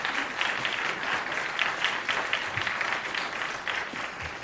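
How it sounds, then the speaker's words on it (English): Audience at a school board meeting claps in a steady, dense round of applause, sustained and fairly close, with no clear talk over it. "Please hold your applause so we can hear the speakers."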